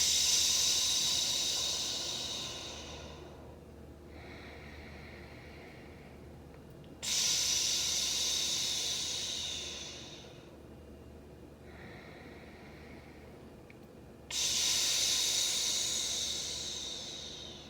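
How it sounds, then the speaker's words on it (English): Slow deep breathing during a yoga stretch, three long airy exhales each followed by a quieter inhale, close to the mic and steady, with no talk. "Let's take 3 breaths."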